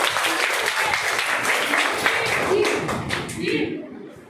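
A class of primary schoolchildren claps hands together after a correct answer in a classroom quiz game, a dense burst of clapping that fades near the end, with some voices underneath.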